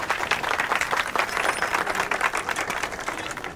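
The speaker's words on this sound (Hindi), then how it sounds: "हाँ ताली ताली।" Audience applause during a film scene, a dense, steady wash of many hands clapping throughout at an even level, with no talk over it.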